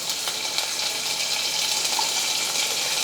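Garlic drops into hot oil already holding mustard seeds and cumin in a pan, giving a steady, close, even sizzling hiss that lasts throughout with no voices.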